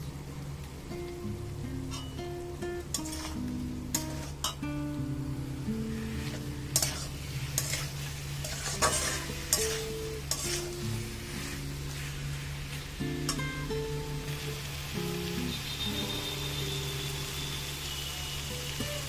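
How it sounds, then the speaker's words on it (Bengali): Pumpkin and potato curry with ginger-cumin paste and chili powder being stir-fried in a pan, a steady sizzle under repeated scraping and stirring strokes of a spoon, close and continuous throughout. "সব কিছু ভালো করে কষিয়ে দিলাম।"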